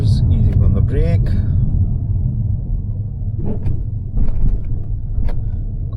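A car on a Glasgow driving test route near Shieldhall, a steady low in-cabin road rumble and engine drone close up, with a few clicks and a voice narrating over it.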